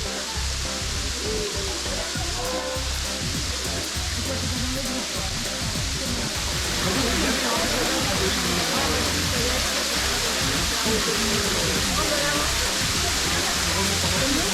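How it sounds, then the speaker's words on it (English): A waterfall in Martinique roars in a continuous broadband rush of falling water that grows slightly louder midway, with voices of a crowd audible underneath. "It's definitely a pretty cool waterfall, though."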